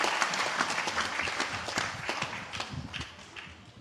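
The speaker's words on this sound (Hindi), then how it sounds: "एक बार तालियां बजा के पूज्य आचार्य जी का हम स्वागत सम्मान करते हैं।" An audience claps together to welcome the revered acharya at a live Bhagavata katha religious gathering. The applause is a dense, steady patter that runs throughout without pause.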